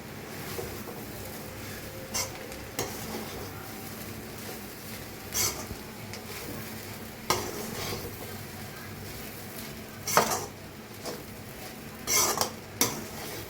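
Egg fried rice being stirred in a pan, a spoon scraping and clinking against the metal in scattered strokes over a soft, low sizzle; no voices.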